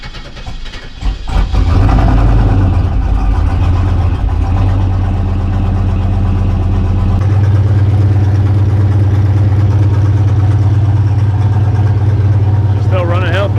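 An engine in an OBS Chevy single-cab truck cranks and catches, then settles into a loud, steady idle that runs close and continuous for the rest of the clip.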